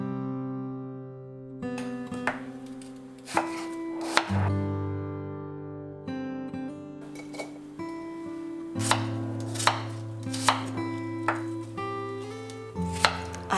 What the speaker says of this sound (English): So we're first just cutting up 2 apples.